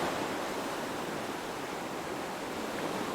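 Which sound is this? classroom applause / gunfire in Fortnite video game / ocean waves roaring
ocean waves roaring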